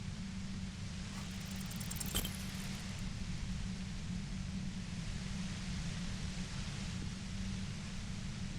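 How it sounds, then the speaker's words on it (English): A compressor in the Disco Elysium video game drones as a steady, dense low hum under a broad noisy hiss, unbroken and constant throughout, with one brief faint click. "The violet-white noise becomes even more overwhelming closer to the compressor"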